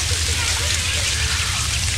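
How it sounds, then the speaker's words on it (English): Rain falls in a dense, steady wash of hiss and patter with a low rumble underneath, continuous and fairly loud, with voices faintly present beneath it. "Everyone's trying to get out of the rain."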